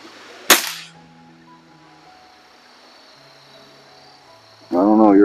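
A single sharp crack from a Webley air rifle, indoors, followed by a faint quiet hum and then a brief voice at the very end.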